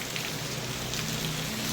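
Heavy monsoon rain pours down in a dense, unbroken hiss of drops hitting surfaces, steady and loud throughout.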